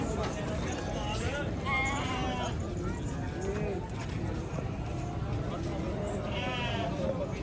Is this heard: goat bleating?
yes